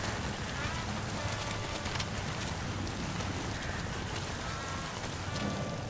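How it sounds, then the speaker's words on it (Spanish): Steady, dense rain hissing across the whole stretch in Metal Gear Solid V, a constant broadband patter with no breaks and no other clear sounds. "Está lloviendo"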